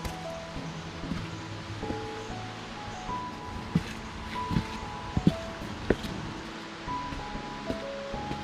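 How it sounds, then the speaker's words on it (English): Federal Falls, a waterfall in the Blue Mountains, gives a steady broadband rush of falling water heard from nearby, with a few faint knocks and clicks over the constant roar. "this is Federal Falls, the third waterfall on this journey"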